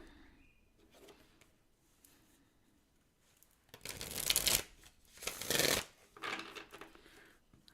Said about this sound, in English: they're my shuffling cards